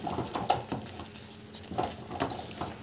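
A spoon stirs upma with coriander leaves in a pan, soft scraping and intermittent taps against the metal at an uneven rhythm, quiet and close with no talking.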